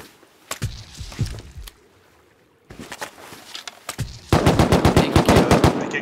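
Video game gunfire, bursts of rapid automatic shots spaced by short pauses, ending in a sustained loud machine-gun stream, with no talking over it.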